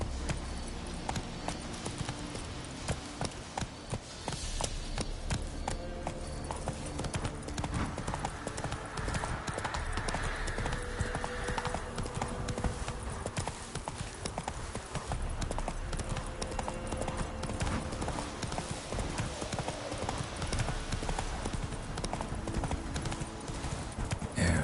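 Roach, the horse in The Witcher 3: Wild Hunt, gallops in a steady, rapid clip-clop of hooves, close and continuous, under game ambience.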